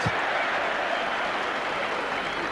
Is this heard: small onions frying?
no